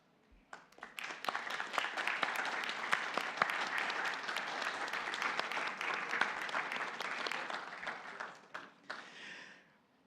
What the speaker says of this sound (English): The way we like to do that is to give you some love through applause